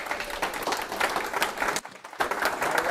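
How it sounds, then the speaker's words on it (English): Live studio audience applause, continuous crowd clapping throughout, briefly dipping for a moment before resuming at full strength. "Give yourself a round of applause."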